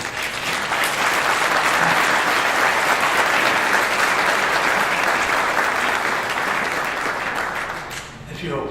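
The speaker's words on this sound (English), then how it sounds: "If you applaud, it's going to be longer." Sustained audience applause fills a hall during a hall of fame induction ceremony, loud and steady for several seconds before tapering off near the end.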